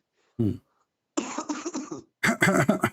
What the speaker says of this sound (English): More coughing.